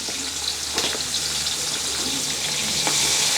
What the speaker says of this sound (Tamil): பெரிய பெரிய வெங்காயத்தை போட்டுக்கொள்ளுவோம் அதோட பச்சை மிளகாயம் போடுவோம்